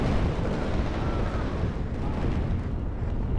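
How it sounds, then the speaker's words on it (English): Shortsword aircraft bombing runs in the WARNO Halo mod unleash a dense, continuous rumble of explosions, heavy low booms overlapping without pause. "And we have short swords coming in with the bombing runs here."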